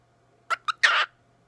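Pet bird calling close by: two short chirps followed by a longer harsh squawk, loud against a quiet room.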